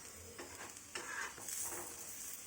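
An aloo palak paratha is pressed and roasted crisp on a hot griddle, with a steady soft sizzle and a few scraping, pressing sounds close by.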